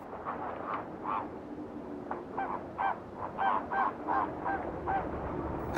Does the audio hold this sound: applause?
no